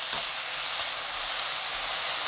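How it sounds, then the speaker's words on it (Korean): Beef stir-frying over high heat in a hot pan gives a steady, bright sizzle and hiss that holds evenly for a couple of seconds, close and alone. "팬이 달궈지면 소고기 넣고 센 불로 볶습니다"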